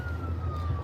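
An ambulance siren wails steadily at moderate distance over a low rumbling road and engine hum.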